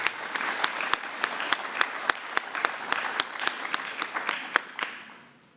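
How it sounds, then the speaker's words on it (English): Applause at a high school FFA awards ceremony, close individual claps standing out sharply above a softer crowd clapping, with a steady rhythm that fades away at the end. "Let's give all our star winners another round of applause."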